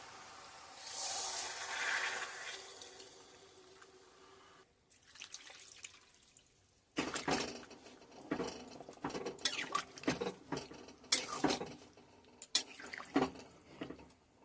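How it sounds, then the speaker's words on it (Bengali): Water poured into a pan of spiced jackfruit with potatoes, heard as a soft trickling pour and then a run of splashy, dripping liquid sounds, close and fairly quiet, with no talk. "এবার দিয়ে দেবো জল"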